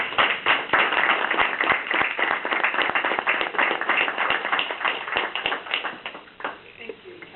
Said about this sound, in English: I would like to just give a round of applause for all of you.